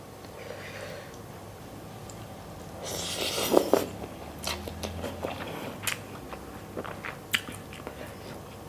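Crunchy shredded green papaya salad, spicy and sweet, is bitten and chewed up close, with a burst of crisp crunching mid-clip and smaller chewing crackles after, no voice.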